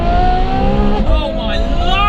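A Ferrari F12 fitted with an IP exhaust revs hard, its engine note rising and falling in loud close sweeps, with talking over the top.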